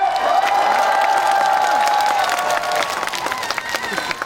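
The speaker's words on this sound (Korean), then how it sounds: "저희 군수님 박수 한번 주세요." An outdoor festival crowd applauds and cheers for a few seconds, with a held tone and scattered shouts over the clapping before it thins out.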